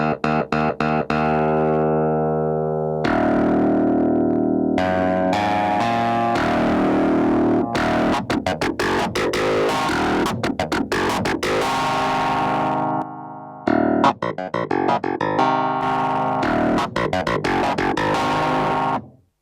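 Electric guitar through a UAFX drive pedal with heavy overdrive, sustained distorted chords and choppy rhythmic strums, loud and close, playing continuously with a short pause near the end.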